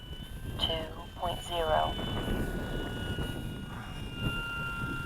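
FMS Beaver RC model airplane with full flaps making a touch-and-go, a steady droning motor hum running throughout, moderately close, with someone talking over it.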